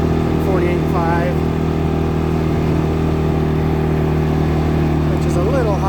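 A 2022 CFMoto CForce 500 ATV drones steadily up close on a mountain ride, its engine holding a constant loud hum, while a rider talks over it.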